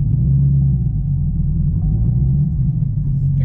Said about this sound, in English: You can hear that exhaust and it really sounds nice.